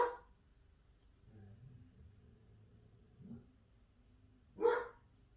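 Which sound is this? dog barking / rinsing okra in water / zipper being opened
dog barking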